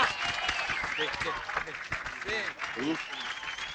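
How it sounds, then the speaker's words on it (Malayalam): A crowd claps for the teacher in a Malayalam film scene, a steady wash of applause running under voices talking over it. "ആശാന് വേണ്ടി എല്ലാരും ഒന്ന് ക്ലാപ്പ് ചെയ്യടാ"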